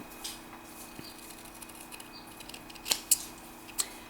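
Scissors trim the edges of Druid Craft tarot cards, giving a few faint, sharp snips near the end over a quiet background.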